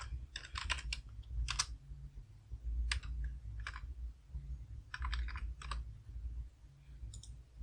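Quick bursts of typing on a computer keyboard, entering a command at a Windows command prompt: close, crisp key clicks in irregular clusters with short pauses, over a low steady hum and no talking.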